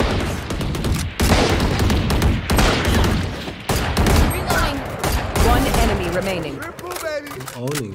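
Rapid gunfire bursts from a shooter video game, loud and dense with repeated shots and booms. A player talks excitedly over the action, and the firing fades into quieter game sounds near the end.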